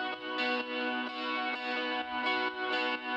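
An ambient guitar loop from a sample pack plays in a progressive house track, sustained effected chords with rich harmonics that shift every half second or so, steady and clear with no talking.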